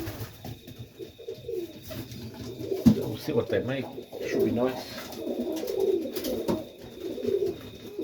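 Pigeons coo steadily inside a loft, a soft layered chorus of low burbling calls running throughout while someone talks quietly over them.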